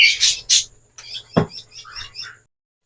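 Pet lovebirds or parakeets chirp nearby in quick bursts of high tweets and short trills, with brief pauses between calls.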